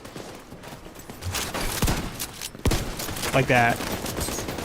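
Close-range shotgun blasts in a video game, two loud booming shots roughly a second apart with mechanical clatter around them, heard under a player talking.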